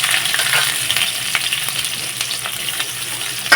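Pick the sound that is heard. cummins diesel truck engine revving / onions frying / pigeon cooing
onions frying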